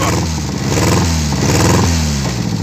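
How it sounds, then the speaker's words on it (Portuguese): A cold AP 1.8 engine in a cross-country buggy with an open exhaust pipe revs loudly and unevenly, the roar climbing and dropping while misfires crackle and stutter through the exhaust, close and continuous. "Acelerando um pouco aqui, só que ela tá meio fria aí"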